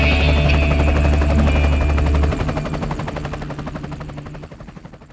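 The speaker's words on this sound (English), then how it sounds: "When necessary, the scorched hills can even be hydro-seeded by helicopter." A helicopter passes low and loud over scorched hills while hydro-seeding them, its rotor making a steady rapid chopping drone. The sound fades gradually as the aircraft moves away.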